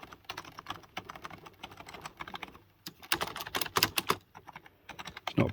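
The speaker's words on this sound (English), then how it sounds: "It's not a particularly noisy keyboard either, which is good." Fingers type on a cheap B&M gaming keyboard, a quiet, fairly soft run of tactile key clatter in uneven bursts, faster and denser toward the end, with no one speaking.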